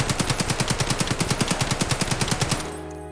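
An AKM rifle in a shooter game fires a sustained automatic burst, a rapid even rhythm of about two dozen loud close cracks that cuts off, leaving a brief ringing tail.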